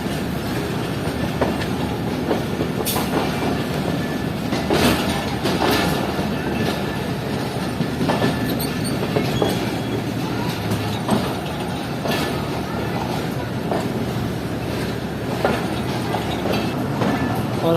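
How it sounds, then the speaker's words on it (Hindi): The Shaheen Passenger train runs along the tracks near Wazirabad Junction, with a loud, steady rolling rumble, rhythmic clickety-clack from the wheels and occasional squeals, heard from on board throughout. "बिल्कुल सेम स्पीड में चल रही हैं दोनों ट्रेन।"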